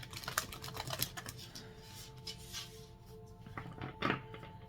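Cards being shuffled nearby: quick papery riffling flicks in bursts, loudest at the start and again near the end, with no talking.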